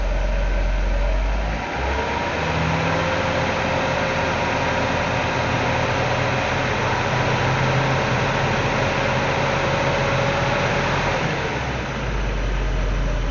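Mercedes 300SE W126 with low oil pressure, engine running steadily near the mic as the throttle is blipped, its hum rising slightly through the middle before easing back toward idle.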